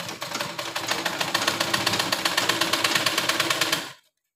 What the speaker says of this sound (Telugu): ఇలా పైపింగ్ పక్కనంగా ఇలా ఒక స్టిచ్ వేయండి